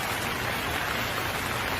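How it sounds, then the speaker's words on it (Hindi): Steady rain falling in a village farm scene of a Hindi cartoon story, a soft continuous hiss of drops on the ground with no other sounds, even and unbroken throughout. "बारिश भी सही समय पर हो जाती है"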